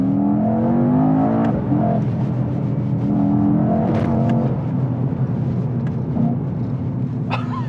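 A 2021 Mercedes E63S Estate accelerates hard at full throttle from inside, its deep engine note rising and surging loud and close throughout.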